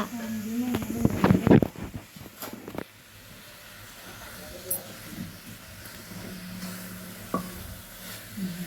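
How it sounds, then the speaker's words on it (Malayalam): Chicken with coriander powder and curry leaves is stirred in a pan. Loud scraping stir strokes come at first, then settle into a faint, steady sizzle with occasional soft clinks. "ഇപ്പം നമ്മൾ ചിക്കനും ഇട്ടിട്ട് മല്ലിപ്പൊടിയും ഇട്ടിട്ട് കറിവേപ്പിലയും ഇട്ടിട്ടുണ്ട് ഇനി നമ്മൾ നന്നായിട്ട് ഇളക്കി കൊടുക്കുക"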